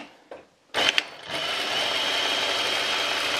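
An electric sewing machine stitches fabric scraps for crazy patchwork, starting after a few soft clicks and then running as a steady, close, whirring hum.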